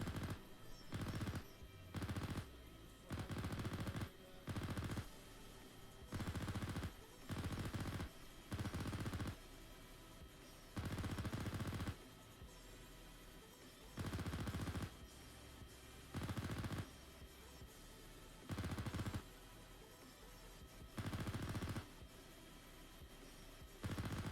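Automatic rifle fire in the Arma III military simulation game comes in repeated loud bursts of rapid shots, each lasting about a second, separated by short quiet gaps throughout.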